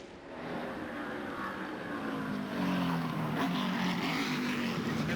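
A NASCAR Ford race car drives onto pit road, its engine a steady, fairly distant drone that grows slightly louder over a few seconds.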